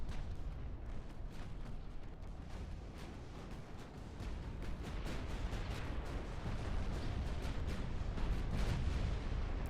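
Heavy naval gunfire and explosions from a warship battle in a USA long campaign wargame, a dense barrage of booms and sharp cracks rolling continuously at high volume with no pause.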